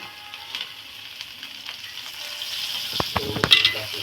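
An egg omelette roti crisping in oil in a pan, a low steady sizzle with a few sharper crackles and a burst of spatula scrapes and pops near the end, close and alone without voices.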